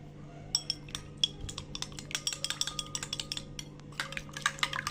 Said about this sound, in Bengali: ডিমটা ভালো করে ফেটিয়ে নিব।